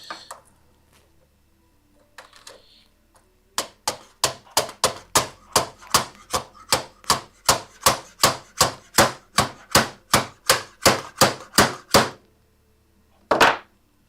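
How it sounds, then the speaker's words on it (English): Rapid series of about two dozen sharp, evenly spaced taps from a small hammer striking stuck plastic during workshop cleanup, close and loud, with a couple of softer knocks before and a single tap after a pause. "Can I do small hammer tap maybe?"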